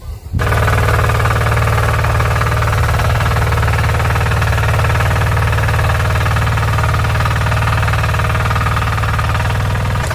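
A motorized hiller digs up potatoes in a field, its engine running loud, close and steady with a continuous knocking chug and no talking.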